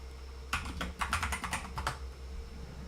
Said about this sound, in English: Maybe if I type in like angel.